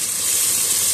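Onions, with plenty of tomatoes, sizzle and hiss in a hot pan as they are sautéed, a close, steady frying crackle lasting about a second.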